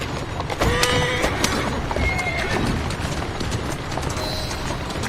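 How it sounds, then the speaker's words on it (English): A horse in the video game Assassin's Creed Syndicate whinnies loudly while its hooves clip-clop steadily on a street, with continuous background ambience throughout. "Who's a good horse? You are."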